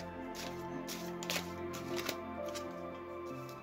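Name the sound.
shuffling a deck of oracle cards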